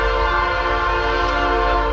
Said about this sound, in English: Sorry that there is a train and I don't have a microphone yet